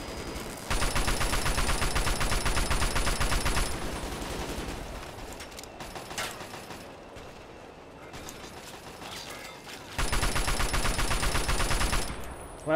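Gunfire in Fallout 3: bursts of rapid mechanical shots at the start and again near the end, loud and close, with quieter game sounds in between.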